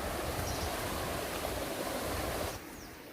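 A small forest stream at a jungle resort in Wayanad flows steadily as a dense, close, continuous rush of water, then drops sharply quieter near the end.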